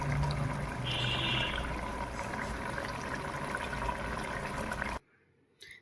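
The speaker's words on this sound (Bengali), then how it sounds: "মাছের ঝোলটা ফুটে উঠেছে" A pot of fish curry boils with a continuous close bubbling and gurgling simmer that stops abruptly near the end, leaving a brief faint knock.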